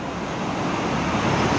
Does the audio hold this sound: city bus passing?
yes